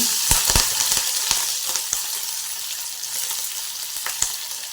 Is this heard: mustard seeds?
yes